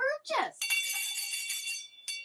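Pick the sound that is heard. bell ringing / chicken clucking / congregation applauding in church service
bell ringing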